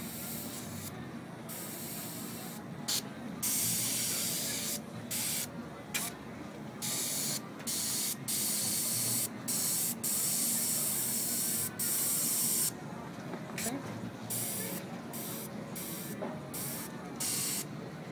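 An airbrush hisses in repeated short bursts while script lettering is painted, each spray starting and stopping over a steady low room hum.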